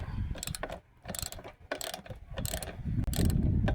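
Ratchet wrench loosening the bolts holding the fuel tank on a Briggs & Stratton vertical-shaft engine, a close run of quick clicking bursts separated by short pauses, with metallic handling noise toward the end.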